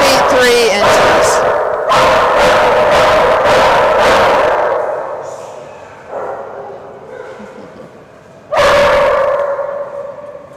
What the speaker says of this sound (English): Barking all the way down the dock.